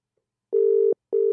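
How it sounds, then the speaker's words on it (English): Telephone ringback tone heard on an outgoing call: two clean, steady electronic tones, each under half a second, separated by short silences, clear and close. "It's ringing anyway."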